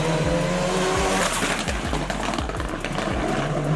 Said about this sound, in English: it's got its own turbocharged sound, obviously. You can hear all that anti-lag.